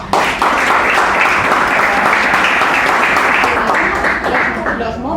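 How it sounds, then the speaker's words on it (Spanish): A large audience at a lecture on sport and Olympic philosophy gives a speaker loud, sustained applause, a dense wash of clapping that holds steady for about five seconds. "Así que un fuerte aplauso, por favor, para ella."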